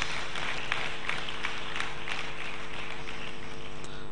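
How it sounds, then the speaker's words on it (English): An audience at a homoeopathic medical college graduation ceremony applauds in a large hall, a steady, even wash of many hands clapping at moderate distance, continuing without pause. "give them a big round of applause"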